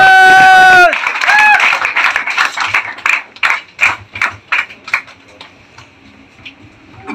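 An audience at a motivational speaking event breaks into applause after a spoken line, starting as scattered, distinct claps that thin into irregular individual hand claps and fade toward the end.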